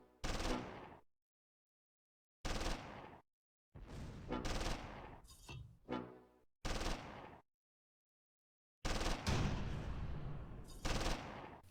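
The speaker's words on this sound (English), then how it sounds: "Schellenberg spots Russian infantry in the woods near the ravine. He opens fire." An MG42 machine gun in Close Combat 3 video game fires several loud bursts separated by silent gaps, with a longer, sustained burst near the end.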